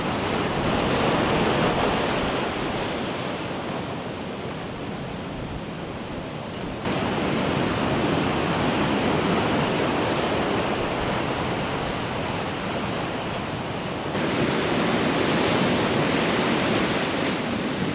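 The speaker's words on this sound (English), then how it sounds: "the waves are crashing closer and closer to shore." Ocean waves crash onshore near high tide at Buxton, North Carolina, in a broad, roaring wash of surf that surges and sustains with wind buffeting the microphone, with no voices.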